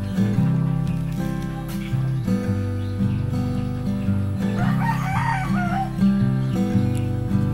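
A rooster crows loudly and close by near a home in the Philippines, the call rising over a steady background of music-like tonal sound with a few clucks, filling most of the stretch.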